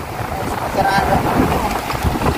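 A bangka outrigger boat motoring over open water through strong waves, engine rumble mixed with heavy wind buffeting and a faint voice in the background.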